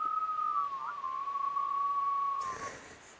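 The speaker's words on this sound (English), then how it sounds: "Whistling quartets." A single sustained whistled tone holding steady for about two seconds, then fading as a soft noisy burst comes in.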